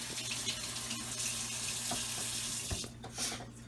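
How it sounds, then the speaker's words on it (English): Water running steadily from a kitchen tap into a sink while hands are washed, a close, continuous rushing splash that eases off near the end. "So let me wash my hands real quick."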